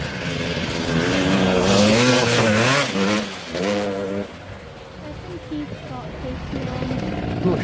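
KTM dirt bike engine revving and surging as it rides a muddy motocross track, with rising and falling pitch from other bikes too, heard under loud voices talking nearby.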